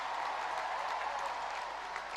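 An audience applauds Indian Olympic hockey players at an honours ceremony, a steady wash of many hands clapping at moderate distance with a faint murmur of voices underneath.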